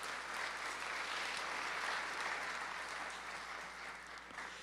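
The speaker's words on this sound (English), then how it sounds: "So please give them a big round of applause." Audience applause at a student film festival awards screening: steady, dense clapping from a large crowd, sustained evenly for the whole stretch with no voices over it.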